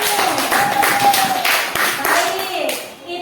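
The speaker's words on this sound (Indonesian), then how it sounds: "Iya, beri tepuk tangan buat Danu." A classroom of pupils claps for a classmate, a lively burst of many small hands beating fast and close, loud and continuous, with children's voices and a teacher's voice mixed in.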